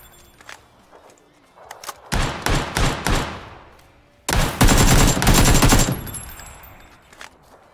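Heavy-recoil gunfire in PUBG on PS5: a short burst of loud, close shots, a brief pause, then a longer sustained automatic volley, with light footstep-like thumps before it.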